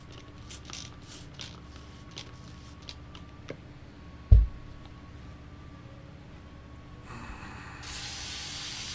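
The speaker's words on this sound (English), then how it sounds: "Clean out the airbrush." An airbrush is cleaned out after painting a miniature, with faint spraying and hissing air, a few small ticks and one sharp knock, and a steadier hiss that rises near the end.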